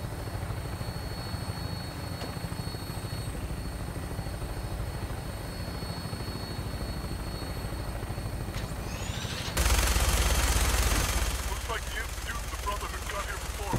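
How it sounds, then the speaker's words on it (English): Vertibird aircraft in the Fallout 4 video game, a steady rotor drone with a rhythmic low chop running throughout at moderate level, briefly overlaid by a louder burst near the end. "Take down the vertibird if you can."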